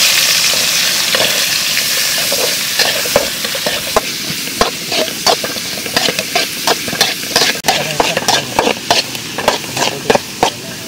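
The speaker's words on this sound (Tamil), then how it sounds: "இப்போ வெங்காயத்தை சேர்த்துக்கலாம்." Onions added to hot oil in a pan for a Tamil-style pond oyster curry sizzle and fry steadily, with frequent close scraping and stirring strikes of a spoon throughout and no talk.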